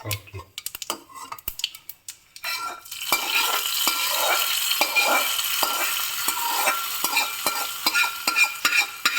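Hot tempering poured into snake gourd kootu, first several sharp clanks of a spoon against the pan, then a sudden loud, steady sizzle that continues while the kootu is stirred with repeated scraping taps, close up, no voices.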